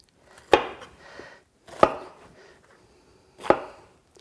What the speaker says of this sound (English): cutting the other side of our peppers